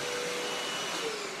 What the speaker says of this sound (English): Nothing like the vacuum cleaner right outside of your office door.